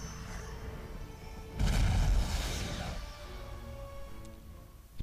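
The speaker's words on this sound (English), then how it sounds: "Big explosion." A big explosion in the video game Skylanders Spyro's Adventure: a sudden heavy boom bursts in partway through and rolls out into a long fading rumble over a low game background.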